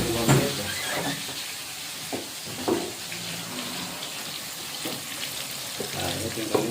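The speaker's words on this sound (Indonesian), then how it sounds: "Ini hanya digoreng paling juga 5 menit lah." Cassava pieces frying in hot oil, a steady sizzling hiss with intermittent bubbling pops and stirring clinks, close by, with faint speech underneath.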